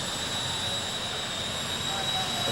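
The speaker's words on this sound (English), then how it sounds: "a brand new Volcano jet dragster" A brand new Volcano jet dragster engine at a drag strip, a steady loud roaring hiss with a whine layered on top, sustained and even with no breaks.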